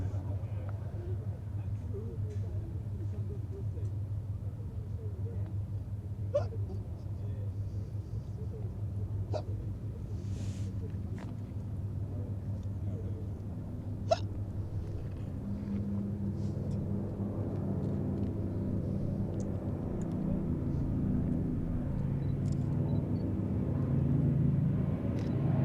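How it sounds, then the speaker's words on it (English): An Avro Anson C-19 leads a pair of Gloster Gladiator biplanes in formation at an airshow at Duxford, a steady low radial-engine drone held at a distance for the whole stretch, with faint crowd and outdoor noise and occasional talk. "the Anson C-19 of the Shuttleworth collection leading a pair of Gloucester Gladiators, one each from Shuttleworth and from the Fighter collection"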